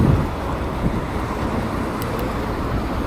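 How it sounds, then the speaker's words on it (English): Strong gusting wind buffets a DJI Osmo Action 4 action camera mounted on a bicycle stem during a windy ride, a loud, constant rumbling roar filling the whole clip with no voices. "because it's very windy"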